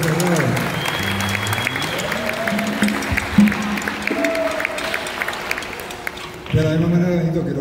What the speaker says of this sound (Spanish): Un aplauso a usted, Ferrón.